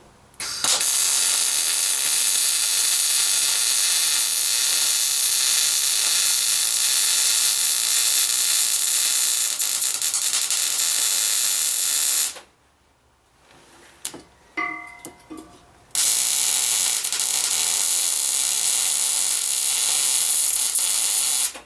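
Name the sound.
welding on a homemade metal pig tank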